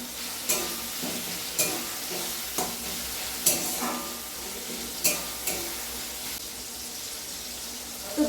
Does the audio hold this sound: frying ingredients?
yes